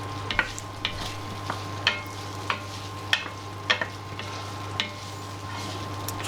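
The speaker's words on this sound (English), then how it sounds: "So keep doing this until the bacon's nice and crispy" Bacon fries in a pot for beef bourguignon, a steady sizzle with a low hum beneath and regular clicks and scrapes from stirring, close and alone without talk.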